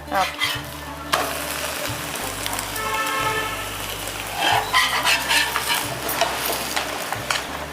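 Obbattu (holige) flatbread fries in ghee on a hot pan, a close crackling sizzle broken by scraping and stirring noises, while a low horn-like hum drones on and off underneath.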